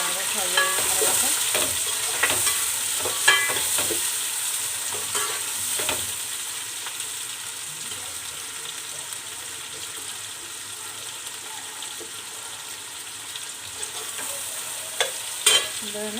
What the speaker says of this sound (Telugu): పచ్చిమిర్చి, ఉల్లిపాయ కొంచెం బాగా ఫ్రై అయిన తర్వాత